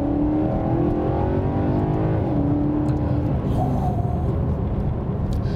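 A 2018 Maserati GranTurismo MC's V8 accelerates from inside the cabin, a steady loud engine note rising in pitch through a gear, with road and wind noise underneath.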